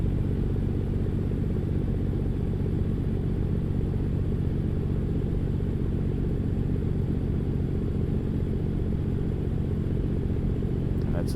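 A Freightliner Cascadia truck engine in American Truck Simulator runs steadily near 1,000 RPM under load, a deep, constant droning rumble with no pauses, close and even throughout.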